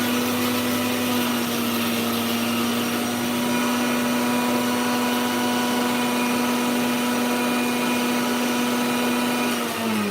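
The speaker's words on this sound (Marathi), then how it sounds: "मिक्सरमध्ये छान अशी पेस्ट करून घ्यायची" A mixer grinder grinds ginger into a paste, whirring loudly and steadily for about ten seconds, a constant motor hum that winds down slightly at the very end.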